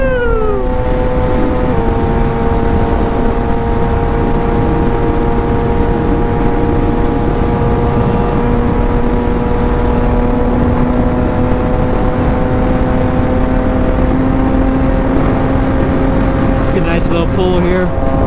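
Motorcycles racing along a highway at a bike meet make a loud, continuous engine whine that holds steady for most of the stretch, with pitch sliding near the start and rising again near the end.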